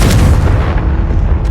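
A Confringo blasting spell in Hogwarts Legacy detonates as one loud, heavy boom that rolls on as a dense, rumbling blast for over a second, with no talk over it.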